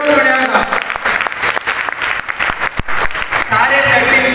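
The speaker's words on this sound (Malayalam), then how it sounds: "ഒരു നല്ല കൈയടി ഗുഡ് ഡോട്ട് പറയാം" Audience applause at a company achievers' meet, loud dense clapping from many hands that carries on steadily and softens toward the end, with a voice briefly heard over it.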